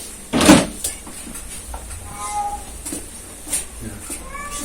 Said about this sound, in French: ce chat a été ramené au cabinet pour un problème